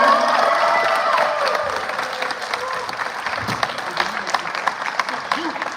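A signing-day crowd breaks into sustained clapping and cheering, loud at first and then thinning into scattered claps, with voices mixed through it.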